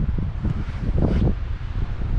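Wind gusting across a microphone on a hiking trail, a steady low rumbling buffet with one stronger surge midway, close and loud, with no voices.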